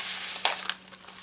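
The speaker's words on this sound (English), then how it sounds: "this one's got a little jingle bell." A tiny metal jingle bell fixed to a paper alteration tag gives a couple of quick, bright tinkles as the tag is handled, close and fairly soft.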